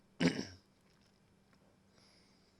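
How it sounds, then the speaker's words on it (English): A single sharp cough bursts out near the start, close and fairly loud, then fades into near silence with faint background hiss. "pardon me, got a bit of a cough"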